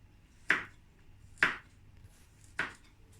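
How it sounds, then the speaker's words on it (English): Three separate knife chops on a board, cutting vegetables small for aloo palak, a potato and spinach curry; each stroke is crisp and close, evenly spaced roughly a second apart in a quiet kitchen. "you're going to cut them nice and small so that they cook in the pan"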